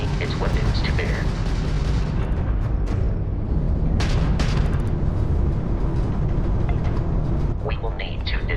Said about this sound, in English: that's a Crimson Fleet ship bringing its weapons to bear.